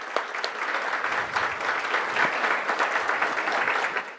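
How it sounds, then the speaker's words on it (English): An audience at a university lecture event applauds a panel, with dense, sustained clapping that stays loud and even for several seconds. "Let's give them another round of applause."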